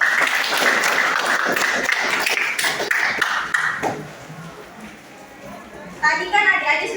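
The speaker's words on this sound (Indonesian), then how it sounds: "Kita berikan aplaus dulu." Students in a Class X classroom clap briefly in a dense burst of applause for several seconds, which then fades, and a voice speaks near the end.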